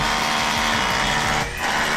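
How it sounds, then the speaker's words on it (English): A power drill bores a line of holes through a brick wall during a house renovation, grinding loud and continuous at close range with a brief dip near the end before resuming, with no talking. "Just kind of stitch drilling across that course where we want it to come out from."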